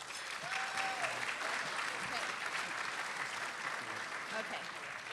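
Banquet audience at a Chamber of Commerce leaders' celebration applauding, a dense wash of clapping from a crowd held steady for several seconds, with voices mixed in.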